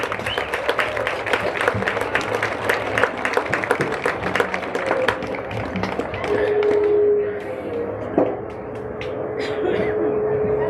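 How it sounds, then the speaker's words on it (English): Audience applause at an outdoor 8th grade continuation ceremony follows the reading of a group of student names, a broad clatter of many hands that thins out toward the end, with some voices over it. "Round of applause."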